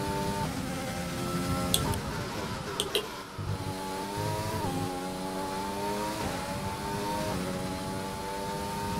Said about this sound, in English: We were like over revving and then we under rev.